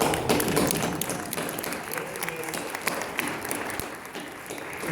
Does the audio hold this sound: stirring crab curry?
no